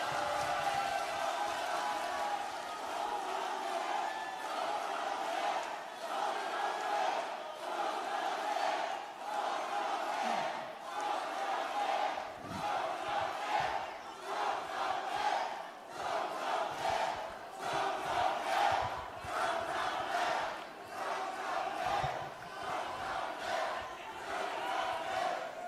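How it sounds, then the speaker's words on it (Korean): A large crowd at a Korean party leadership convention roars and cheers continuously with shouting voices, a dense, sustained wall of noise that swells and dips throughout. "뜨거운 박수로 맞아주시길 바랍니다"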